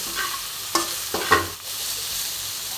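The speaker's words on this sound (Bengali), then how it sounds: "আমি প্রয়োজন মতন হলুদ দিয়ে দিলাম ভালো করে আমি নেড়ে নেব" Bitter gourd with salt and turmeric is stirred in a hot pan, a close frying sizzle broken by a few distinct scrapes and knocks of the spoon against the metal, with no talking.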